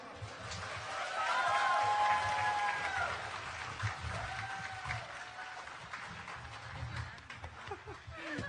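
Audience applause fills a youth excellence recognition ceremony, a sustained wash of clapping that swells early and then gradually thins out over several seconds.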